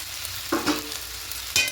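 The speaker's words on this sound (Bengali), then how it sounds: "এবার হালকা নাড়াচাড়া করে সোয়াবিনটা আলুর সঙ্গে একটু ভেজে নেবে" Soybean chunks and potatoes fry in hot oil while being stirred, giving a soft, continuous sizzle with a couple of brief scraping stirs near the start and end.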